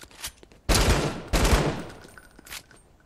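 Gunfire in a Fortnite ranked solo match, with two loud sustained bursts of shots close by, separated by a short gap, then trailing off into quieter scattered sounds.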